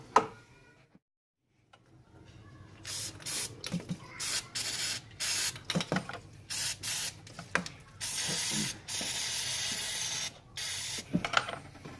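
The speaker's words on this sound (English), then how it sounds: "we're going to go ahead and clean that out with some carb cleaner." Carb cleaner sprays onto a dirty, sticking throttle body during a starter replacement on an Infiniti i30 or Nissan Maxima. The hissing comes in repeated short, close bursts of varying length, separated by brief pauses.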